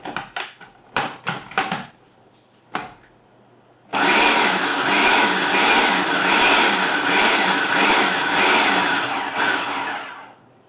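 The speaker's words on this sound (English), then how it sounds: "So we're going to add all our margarine, and then we're going to pulse it." A food processor pulsing margarine for a vegan pie crust, a few short clattering pulses followed by a long loud continuous whirring run.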